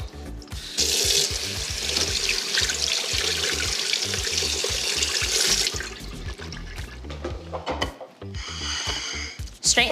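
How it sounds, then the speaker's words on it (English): Strained black beans rinse under a running kitchen tap, a steady loud rush of water splashing into a sink, broken by a short pause and a final burst of flow. "So I'm gonna strain these out and rinse them off so you don't really get any of the coconut flavor."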